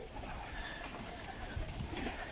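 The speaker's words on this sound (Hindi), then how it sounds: "बहुत प्यारे कबूतर, दो पकड़ लिया आज।" Pigeons cooing softly amid a busy, noisy outdoor background, with faint scattered sounds throughout.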